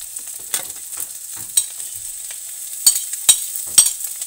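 Onions sizzling in a pan for a sardine omelette, a soft steady frying hiss with a few sharper crackles and spatula scrapes spaced through it, close by and with no voices.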